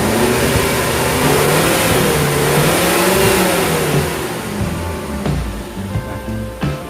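A Zebra Espass car engine, its alternator belt just tightened, revs up in a rising and falling sweep and then drops back toward idle. The revving is loud and close, with no talking.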